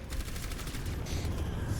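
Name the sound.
gunfire from Mei's weapon in the video game Overwatch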